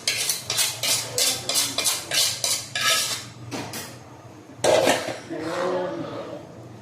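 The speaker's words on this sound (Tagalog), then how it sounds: "Hukay lang ng hukay guys hanggang sa maglapot yan" Dinuguan, a pork blood stew, being stirred in a metal pot with a utensil, giving a steady rhythm of repeated scraping clinks that slows and fades, then a louder clatter and a softer stretch of stirring.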